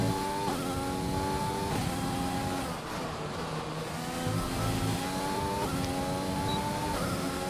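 A race car engine at Monza runs continuously and strains after a trip across the gravel, revving up and down through repeated gear shifts, loud and steady with no talk.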